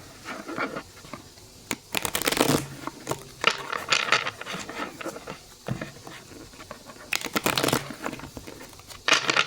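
A large deck of tarot cards is split into two piles and shuffled, giving repeated bursts of riffling, papery patter and crinkling with short pauses between them. It is close and moderately quiet, with no talk.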